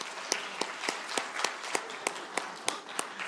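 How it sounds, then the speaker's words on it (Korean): A church congregation applauds during a worship service, a sparse spread of distinct claps with sharp sporadic peaks over a soft continuous patter. "우리 격려의 박수 한번 하겠습니다"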